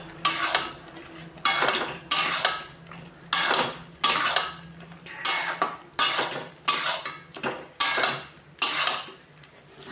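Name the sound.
soybean chunks stirred in a cooking pan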